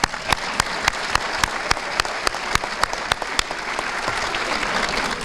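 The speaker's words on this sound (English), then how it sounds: "I don't know if we clap again. Maybe we should." A school audience at a high school signing day claps in a rhythmic, fairly loud pattern, with crisp sharp claps repeating steadily above a softer wash of scattered applause.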